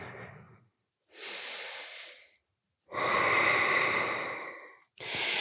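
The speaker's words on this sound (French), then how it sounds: "Dernière respiration" Deep, slow breaths during a dynamic vinyasa yoga session, with three long airy inhales and exhales separated by short silences, close and clearly audible with a breathy hiss on each one.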